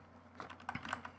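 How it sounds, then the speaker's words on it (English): Quiet, close typing on a computer keyboard: a short burst of light, uneven key clicks over a faint electrical hum. "let's just type in theme and see what people come up with"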